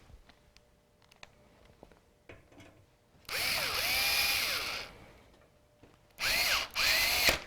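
A power screwdriver drives screws to secure a part inside a gaming PC, two short, loud whirring bursts with a rising-and-falling motor pitch, after quiet handling clicks and taps.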